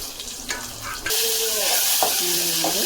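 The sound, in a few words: curry leaves and spices sizzling in hot oil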